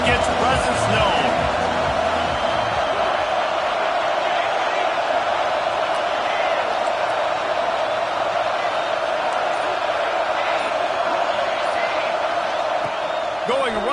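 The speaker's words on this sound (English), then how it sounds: "This crowd ready to make its presence known." Football stadium crowd at an Ohio State game, a dense steady roar of cheering that fills the space continuously, with a commentator speaking over it.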